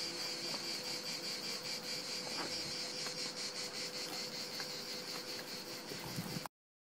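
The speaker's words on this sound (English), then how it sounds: "You can hear the crickets, they're very loud." Crickets chirp loudly and steadily in a dense, pulsing chorus at night near a beach in Castelnuovo Cilento, Campania, Italy, with no voices over the constant trilling.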